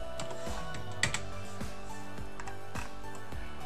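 Quick, light clicks of someone typing a numeric value on a computer keyboard during CAD work, close and fairly quiet, in a short irregular run of keystrokes.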